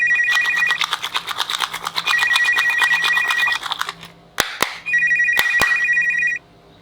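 A toy gaming mobile phone plays an electronic ringtone: bright, repeating beeping tones in bursts with short pauses, loud and close, with a couple of sharp clicks between bursts.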